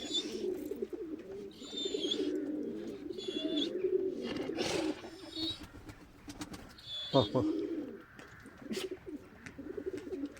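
Soft low cooing of pigeons repeats through the scene while someone talks nearby, with a few brief rustles and thumps.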